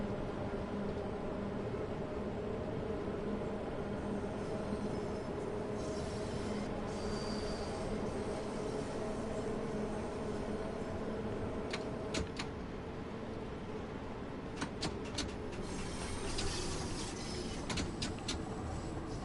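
A Bakerloo Line tube train in Train Sim World 2 climbs uphill between Piccadilly Circus and Oxford Circus, a steady low rumble of motors and wheels with faint rail clicks and squeals toward the end.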